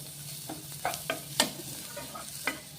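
Chopped onion dry-roasts in a pan with no oil, a soft hiss under several sharp scraping strokes of a spoon stirring it close by.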